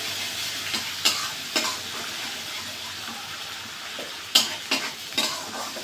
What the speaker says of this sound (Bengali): পরিমাণ মতো লবণ দিয়ে মশলাটা সুন্দর কষিয়ে নেব।